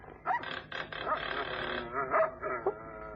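Several dogs in an old woman's house yip and bark in short overlapping bursts, muffled and heard from outside a locked kitchen door, with a faint whimper among them.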